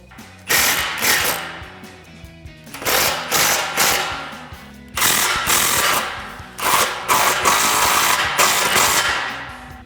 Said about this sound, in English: Now we can snug our clamps down with our 15mm socket.